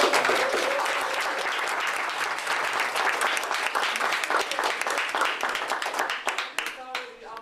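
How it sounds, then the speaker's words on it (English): An audience gives warm applause for a fireman, dense sustained clapping from a crowd that stays loud before thinning into scattered claps near the end. "Let's give a big warm round of applause for our fireman."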